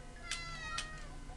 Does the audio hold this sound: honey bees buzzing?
no